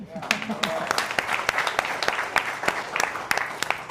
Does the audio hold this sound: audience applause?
yes